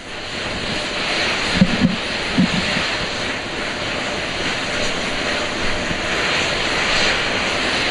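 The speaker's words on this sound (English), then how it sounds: "Those are auxiliary power units, high-speed turbines which provide pressure to hydraulic pumps that steer the RS-25 engines." Auxiliary power units on the Artemis II rocket, high-speed turbines pressurizing hydraulic pumps that steer the RS-25 engines, give off a steady broadband roar and hiss heard from a distance, with a few faint thumps early on.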